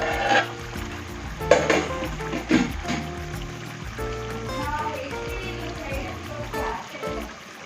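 Chicken curry simmering in a pan while a spoon scrapes and stirs through it, with irregular clinks of metal on the pan and a soft wet sizzle, and a voice talking over the cooking.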